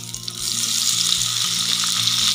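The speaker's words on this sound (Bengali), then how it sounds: "আমার তেল গরম হয়ে এসেছে, এবার ভিন্ডিগুলো আমরা দিয়ে দেবো এর মধ্যে" Okra tipped into hot mustard oil for bhindi masala, a loud, dense sizzle that swells after a brief moment and holds steady and close, with no talking.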